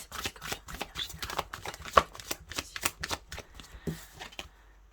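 Tarot cards are shuffled for a reading, close and fairly quiet. They give a run of quick, irregular papery snaps and riffles that taper off near the end.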